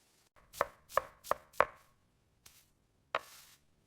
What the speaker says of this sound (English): I'm chopping some onions and garlic.